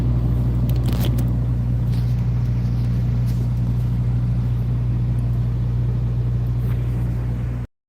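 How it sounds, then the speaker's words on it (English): A steady, loud low rumble and hum of idling truck engines at a truck stop, with a few faint clicks and knocks early on before it cuts off abruptly near the end. "This place is slowly getting more trucks coming in."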